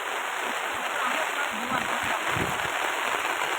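Steady, dense rainfall hisses continuously, with thicker splashing bursts rising midway; no break in the downpour.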